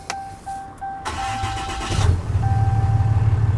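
A few beeping chimes, then a Ford F-150 2.7 EcoBoost pickup engine cranks and fires up with a loud, deep aftermarket exhaust rumble settling into a throaty idle.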